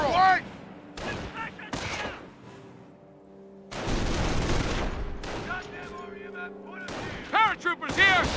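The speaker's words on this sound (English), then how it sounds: "Ground infantry is firing on us!" Infantry gunfire in the Company of Heroes video game, sharp rifle and machine-gun bursts with heavier booms, loud and intermittent across a chaotic battle, under shouted voices of soldiers.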